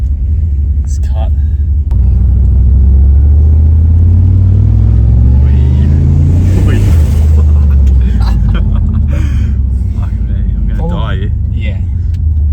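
A turbocharged car accelerates under part throttle with light boost, a loud close rumbling engine swelling and rising through the middle, while people talk inside the cabin.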